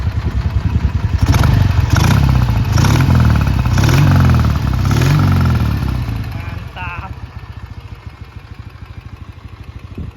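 A 1966 Marusho Magnum 500cc Japanese boxer-twin motorcycle revved in several loud, rising blips close by, then settling to a steady lumpy idle.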